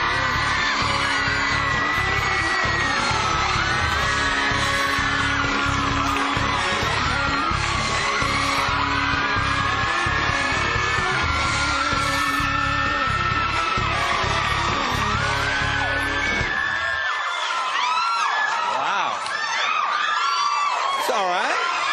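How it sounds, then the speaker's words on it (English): A television talk-show studio audience cheers, yells and whoops loudly and continuously for Leonardo DiCaprio's entrance, with many voices layered together and sharp whoops rising toward the end. "What a crowd tonight. Are they always like this?"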